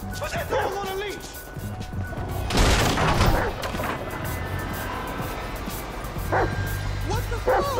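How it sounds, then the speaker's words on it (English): A dog barks in Grand Theft Auto V amid game noise, with a few sharp barks and yips mixed with bursts of gunfire-like booms and voices talking over them. "Put that dog on a leash!"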